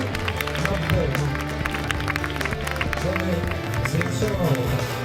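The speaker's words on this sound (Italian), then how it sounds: "facciamo un applauso alla nostra giuria" Audience applause for the jury at an elegant-dress beauty pageant show at Villa Momi's, a steady wash of clapping under a continuous crowd hubbub with music-like tones, lasting throughout.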